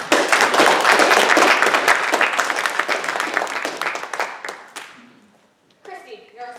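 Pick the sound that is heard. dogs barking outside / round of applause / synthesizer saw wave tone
round of applause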